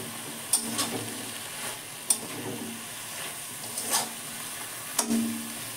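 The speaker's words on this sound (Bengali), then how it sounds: "তো শাকটা দিয়ে আমি একটু কষে নেব" Bottle gourd greens and tender stems are stir-fried in a pan, with a steady sizzle under periodic clanks and scrapes of a spatula against the metal. No talking.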